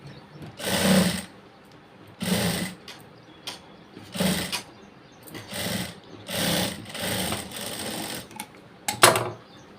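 A sewing machine stitches blouse fabric in short bursts, each a close, fast mechanical whirring run of a second or so, separated by brief pauses.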